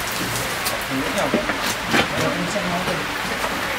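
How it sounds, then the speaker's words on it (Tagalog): Steady rain pattering on a surface, a dense hiss with scattered drops, while people talk nearby. "Ang ulan. Wala lang, naulan."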